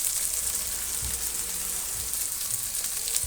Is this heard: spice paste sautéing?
yes